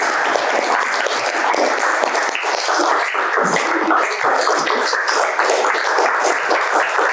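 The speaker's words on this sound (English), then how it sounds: "a good round of applause for Vishesh." Audience applause after an interview talk with an entrepreneur, a dense, steady crowd of many hands clapping at even loudness for the full stretch, with no one speaking over it.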